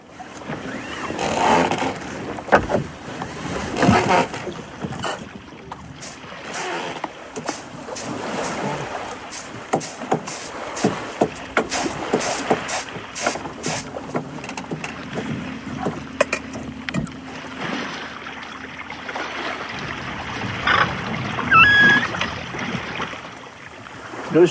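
The wooden sailing boat Louis under way at sea off western Madagascar in light wind, with a steady wash of water along the hull, creaking and knocking on board and occasional splashes, continuing without a pause.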